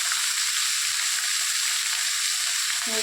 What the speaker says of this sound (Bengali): এই যে দেখো সমস্ত সবজি একটু উলট পালট করে ভেজে নিচ্ছি।